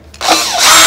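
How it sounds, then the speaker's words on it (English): A cordless drill driver spins a screw back out of a piece of wood: a loud, close motor whine that starts abruptly and rises steadily in pitch for under a second. "drive this screw into this wood using this drill driver"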